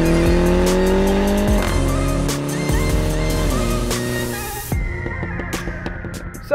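A Mini John Cooper Works hatchback accelerates hard on the road, its engine note climbing and dropping through several gear changes, loud and close from inside the car, with a voice speaking briefly near the end.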